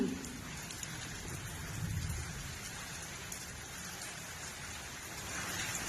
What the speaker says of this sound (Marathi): लय जोरात पाऊस आलाय